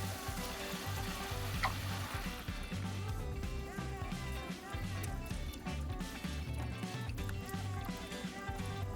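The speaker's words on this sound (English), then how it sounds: "add the tomatoes, the coconut milk, a little bit of salt, and then we want to bring that all to a simmer" A Bahia-style moqueca stew of tomatoes, coconut milk and salt simmers in a pot, giving a steady, close bubbling sizzle that runs without a break for the whole stretch.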